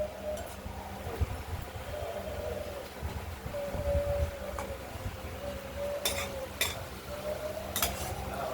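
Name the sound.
mixing poppy seed paste into fried okra in a pan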